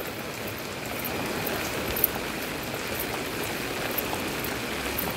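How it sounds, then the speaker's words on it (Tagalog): Heavy rain pours steadily in a dense, even hiss, heard from a moderate distance with no talk. "Lakas ng ulan."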